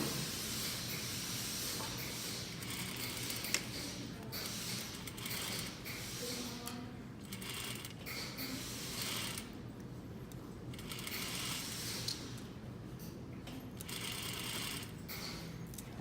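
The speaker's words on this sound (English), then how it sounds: "So I'm just gonna sew along my 1/2 inch line." A sewing machine runs a sleeve seam along a half-inch line, a soft, steady mechanical hum with small intermittent clicks, fairly quiet throughout.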